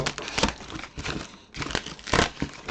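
Bursts of crinkly packing paper crumpling come in uneven handfuls, close and fairly loud, with short pauses between them.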